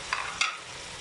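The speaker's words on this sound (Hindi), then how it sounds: "इसको भून लेंगे अब इनके साथ।" Chicken frying in a pan with tomato, ginger and green chillies gives a soft sizzle, broken by two brief scraping stirs early on, then a quieter steady crackle, with no one talking.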